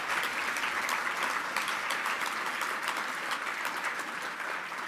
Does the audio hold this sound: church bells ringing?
no